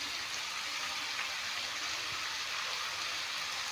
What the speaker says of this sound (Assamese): এয়া পানী দি দিছোঁ।